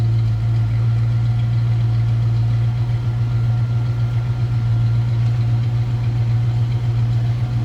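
A 1965 Ford Mustang convertible with the 289 V8 idles steadily, a loud close low droning rumble held evenly for several seconds with no voices.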